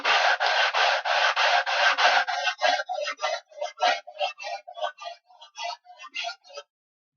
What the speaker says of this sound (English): I want to get the dust out of the sandpaper